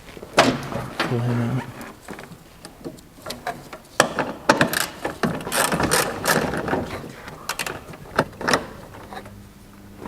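Ratchet undoing a size 10 bolt behind the headlight of a Mitsubishi L200, quick bursts of close mechanical clicking with short pauses between.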